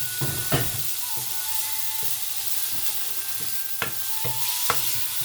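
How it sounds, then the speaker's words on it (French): Green beans sauté in a pan with a constant soft sizzle, and a utensil stirs and taps against the pan at irregular intervals, all close and with no voices. "Donc là je vais faire revenir les haricots."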